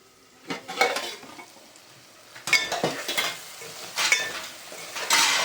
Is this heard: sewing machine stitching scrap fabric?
no